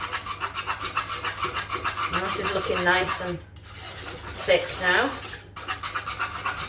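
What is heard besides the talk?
metal whisk scratching a pan while stirring cheese sauce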